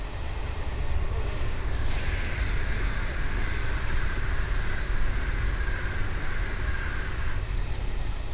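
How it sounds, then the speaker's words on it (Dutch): An electric train pulling into a station in Train Simulator 2021, a steady low rumble with a faint whine rising through the middle, continuous and fairly loud. "En we horen de volgende trein alweer aankomen."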